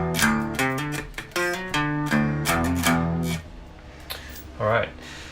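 Electric guitar playing a riff, a series of sharp, choppy, slightly driven notes and chords in a rhythmic pattern for about three seconds, then a brief bent note after a pause.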